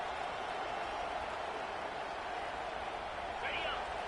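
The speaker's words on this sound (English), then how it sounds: "This crowd, full throat, spreading the eardrums" Football stadium crowd at an SEC game, Oregon versus Wisconsin, roaring in a steady, full-throated wash that holds without letup, with a faint rise near the end.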